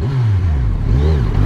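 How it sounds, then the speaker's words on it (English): A Kawasaki Ninja 1000 with its stock exhaust revs hard and close, climbing and falling in pitch twice as the throttle is blipped. The engine is loud and alone. "Useless idiotic revving"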